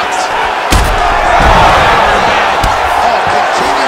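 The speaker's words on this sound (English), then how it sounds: "The crowd on its feet as this next round gets underway." A dense crowd roars and cheers steadily at a UFC 5 video game fight as a new round starts, loud and continuous, with a few sharp thuds cutting through.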